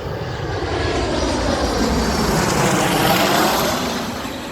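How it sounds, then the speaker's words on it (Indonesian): A fixed-wing airplane passes overhead, its steady broadband engine roar filling the whole stretch and swelling slightly toward the end, loud and continuous with no talk over it. "ini ada pesawat lewat, jadi saya lewatkan dulu pesawat"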